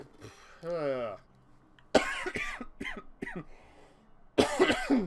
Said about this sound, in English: That cough I've had all day.